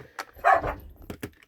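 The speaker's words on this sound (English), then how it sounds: "Sorry about the dogs" A dog gives a few short barks and yips, close by, in quick uneven bursts over a second or so.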